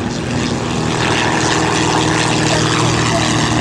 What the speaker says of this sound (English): And the venerable Stearman, PT-17 taking off